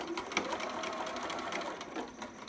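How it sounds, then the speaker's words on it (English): A sewing machine stitches down the side of a romper, a fast continuous mechanical whir with a rapid needle chatter, close and steady for a couple of seconds. "we're just going to sew right down that side, and I'm going to back stitch a little bit"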